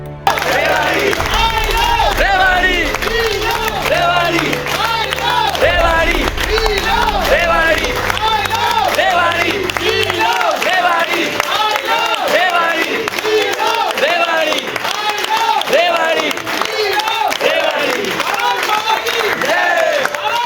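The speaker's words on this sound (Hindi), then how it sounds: "डॉक्यूमेंट्री जैसे ही समाप्त हुई, सभी ने 5 मिनट तक ताली बजाकर दैनिक रणघोष की टीम को और बेहतर करने की ऊर्जा" An audience gives sustained, dense applause after a documentary screening, loud and close, a steady patter of many hands clapping with some crowd voices mixed in, continuing unbroken throughout.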